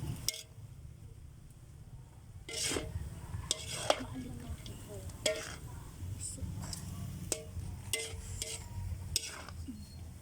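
Bihon and canton noodles are stirred in a pan over the heat, with intermittent metallic scrapes and clinks of the utensil against the pan over a low sizzle, and a voice speaking faintly at times.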